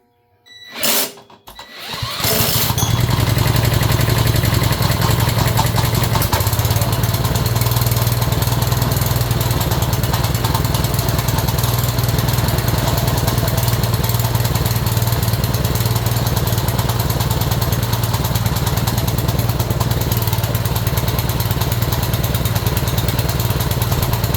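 A Honda small engine with a newly installed ignition coil coughs briefly, then catches and roars into a steady, loud, continuous run that lasts the rest of the clip, close to the microphone with no talking.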